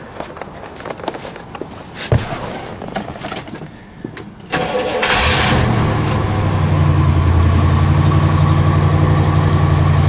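Quiet shuffling and a few clicks, then a 1974 Pontiac Grand Am engine cranks and catches, settling into a loud steady idle that continues to the end.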